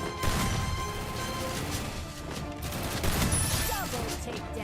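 Rapid gunfire from a shotgun and an MP5 in a shooter video game, dense overlapping bursts continuing throughout at a steady loud level, with a voice speaking faintly underneath.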